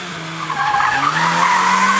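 A Honda Fit skids through a gymkhana run, tires squealing loudly over a strained engine drone for about two seconds.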